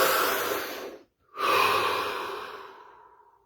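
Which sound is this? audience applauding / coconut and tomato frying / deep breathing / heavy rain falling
deep breathing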